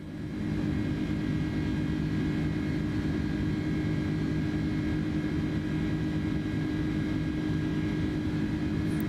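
An Inibuilds A310 airliner taxiing in Microsoft Flight Simulator 2024: a steady, loud jet engine drone with a constant low rumble and a faint high whine, unchanging throughout, with no voices.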